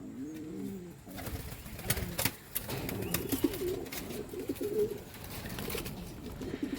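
Several pigeons coo steadily in a loft in a low, rolling chorus, close by and continuous, with occasional louder bursts and faint rustling in the background.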